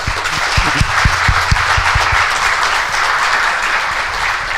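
Conference audience at a Kubernetes Community Days event in Romania applauding across the whole stretch: a dense, steady wash of many hands clapping, with a few sharper low thumps near the start.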